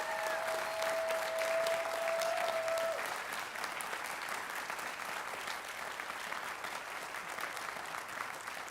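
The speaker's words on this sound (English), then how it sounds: "every parent, give them a big round of applause" Audience applause for teachers at a Sukkot 2021 school presentation, a steady crowd clapping that runs the whole stretch, loudest early and easing slightly later, with a faint tone briefly ringing over it at the start.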